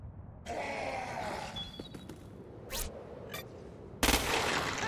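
Gunfire from shooting mutated freaks in the game Crackdown 2: a few sharp shots ring out over a steady background hum, then a louder burst of fire near the end.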